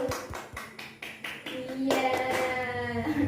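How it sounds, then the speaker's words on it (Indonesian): A classroom of children claps for two classmates, a scattered burst of handclaps in the first half that gives way to children's voices and talk. "Tepuk tangan dulu dong buat Inayah sama Abdul"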